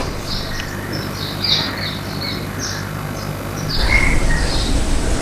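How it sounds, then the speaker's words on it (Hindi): Birds chirp and twitter in a banyan tree outside a window at midday, a steady run of short high calls over a low hum, with insect-like trilling and a louder burst of chirps near the end. "चिड़ियों की आवाज में खो जाते हैं"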